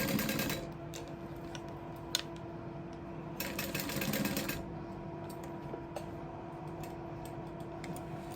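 Sewing machine laying a base stitch on a leather sling, steady mechanical ticking and whirring in short runs, close and fairly quiet, no voices.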